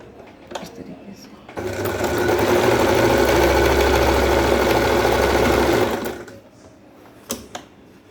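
A sewing machine stitches a petticoat in one steady run of about four seconds, loud and close, with a low motor hum. A few sharp clicks come before and after.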